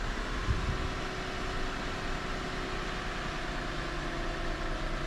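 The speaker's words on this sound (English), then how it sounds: "So now I'm going to start up the engine." A 2007 Lexus GS350 engine idles steadily after being started, a smooth even hum with a faint mechanical whir, constant and moderately quiet with no talk.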